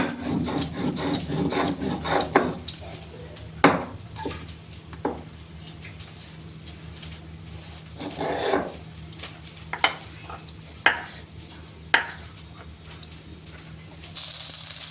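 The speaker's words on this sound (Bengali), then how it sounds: "জিরার গুঁড়াটুকু আমি বেটে নেব একটু পাটাতে।" Cumin being ground on a stone slab (pata) with a stone roller, giving a rough, repeated scraping and rubbing close by, broken by a few sharper knocks and taps.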